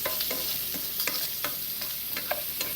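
Shrimp sizzling in a hot pan, a constant crackling fry dotted with small pops and the clink of stirring, close by and moderately loud with no voices.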